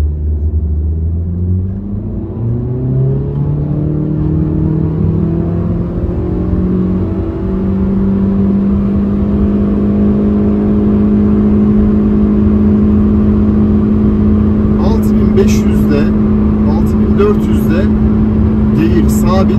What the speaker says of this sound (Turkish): Devir sabit ve araç hızlanıyor.